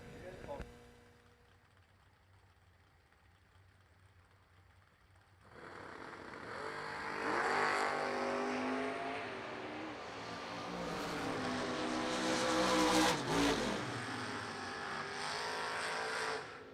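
Drag race cars accelerate down the strip at the ACE Triple $20's race, a quiet stretch giving way to a loud, building roar that peaks and then holds.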